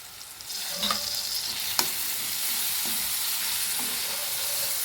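Onions fry in a pan for a raw banana gravy curry with salt, ginger garlic paste and curry leaves added, making a constant close sizzle broken by a few distinct stirring clicks.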